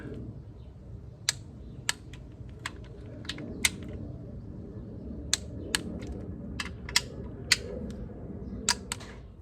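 Sharp metallic clicks from a torque wrench tightening the larger valve cover bolts on a 2012 Honda Accord, a dozen or so irregular ticks close by over a low background hum.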